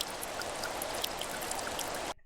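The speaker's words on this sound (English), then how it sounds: "So I could use some, rain sound effects" Steady rain sound effect, a dense even wash of falling water with scattered drop patter, played alone for about two seconds before cutting abruptly to silence.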